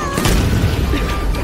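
A loud, dense cartoon-style boom fills the short moment, a sustained rumbling blast with no clear decay, close and heavy.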